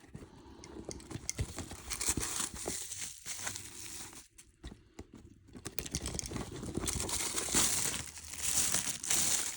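Crisp, close crinkling and rustling of a plastic tarp from an SOL camp kit being handled and unfolded, with irregular bursts of rustle and brief pauses.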